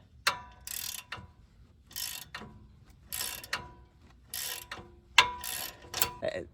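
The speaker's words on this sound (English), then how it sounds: "I just have these vice grips holding that inside nut while I torque off the outside one" Bursts of ratcheting from a hand ratchet loosening the outside nut on the rear brakes of a Land Rover LR4 while vice grips hold the inside nut, about seven short runs of clicking separated by brief pauses, close and fairly quiet.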